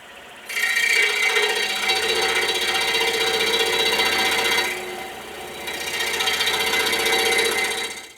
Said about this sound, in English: Well, here we are over at the scroll saw. I've just got a number 3 blade in here, and we're just going to trim the end of this off.